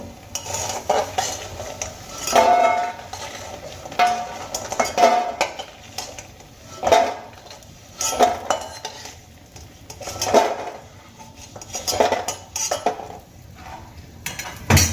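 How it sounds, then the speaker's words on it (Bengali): Fried lentil dumplings are lifted from a kadai into a bowl with repeated close metallic scrapes and clinks of a spoon against the wok, in irregular bursts over a faint background hiss. "এবার আমি বড়িগুলোকে একটা পাত্রে তুলে নেব"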